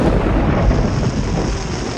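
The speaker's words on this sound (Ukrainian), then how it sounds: "Зараз буде гром." Rolling thunder from a thunderstorm over a campsite on a solo bicycle trip, a loud, steady low rumble with a hiss of rain, no voices.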